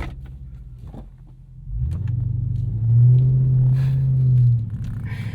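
A car interior with the window closed: a faint click, then a deep engine rumble builds and holds steady as the car pulls away, swelling briefly louder before settling.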